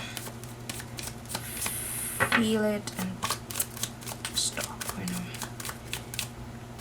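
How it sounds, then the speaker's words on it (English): A deck of tarot cards is riffled and shuffled by hand: a rapid crackling flutter, then a series of short card slaps and taps at close range, while a voice speaks briefly over a low steady hum. "So I'm gonna shuffle one more time."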